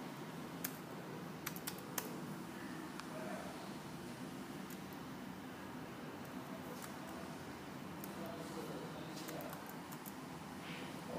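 Typing on a wired iPad keyboard that plugs in through a Lightning connector, heard as scattered, fairly faint key clicks over a steady background hiss, with a few sharper taps standing out.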